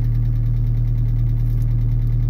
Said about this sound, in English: This muffler right here, this is supposed to make your exhaust smell like cherries, and it's gonna sound like a bomb.